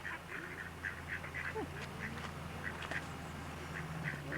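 Ducks quack repeatedly in short bursts beside the raceway of a water mill in a park, with a steady wash of running water underneath and no talking.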